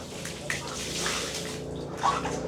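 Water gushes and splashes steadily from a running hose or tap, rinsing sand off a motorcycle close by with bursts of spray.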